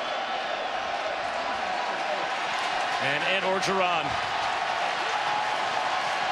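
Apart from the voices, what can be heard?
stadium crowd cheering at LSU vs BYU football game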